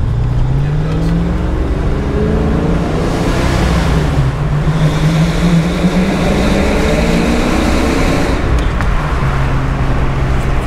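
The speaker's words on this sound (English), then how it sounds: "The exhaust sounds great in this one." A 1989 Ford Mustang convertible, a 25th-anniversary Grey Minx car, drones loudly and steadily with its exhaust while driving, the engine note rising and falling as it accelerates and shifts, with constant road and wind noise throughout.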